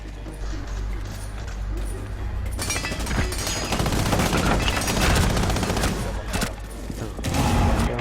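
Rapid automatic gunfire bursts in Rainbow Six Siege, loud crackling volleys that start a few seconds in and continue in clusters, with a player talking over the action.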